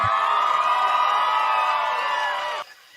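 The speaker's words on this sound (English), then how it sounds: "We got ourselves a crowd that loves a hat trick as much as we do." Studio crowd cheering and whooping loudly in one sustained burst that cuts off abruptly near the end, with no talk over it.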